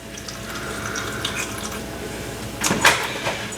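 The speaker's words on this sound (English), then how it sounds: "Add just a little bit of milk to it." Milk poured into a container of thawed mashed potatoes, a brief splashing pour that swells near the end over a steady low kitchen hum.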